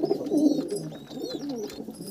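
Pigeons in a loft of old local desi and fancy breeds give soft, close, throaty coos that repeat in rolling phrases, with faint chirps above them and no talking.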